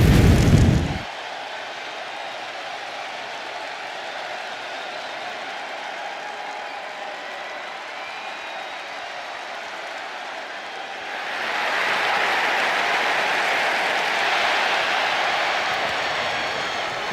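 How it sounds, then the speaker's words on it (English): Virtual arena crowd in the WWE 2K26 wrestling video game, booing and clapping: a sharp loud burst opens, then a steady, dense roar of crowd noise and applause fills the space, swelling louder near the end, with no talk over it. "The crowd is booing while they're smiling and clapping."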